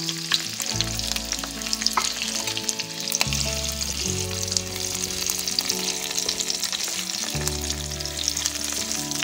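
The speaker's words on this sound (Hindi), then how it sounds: "प्याज में आलू को अच्छी तरह से फ्राई करेंगे हम।" Boiled potatoes fry in hot oil with cumin, carom seeds and onion, making a dense, close, continuous sizzle with crackles throughout. Steady background music plays underneath, and no one speaks.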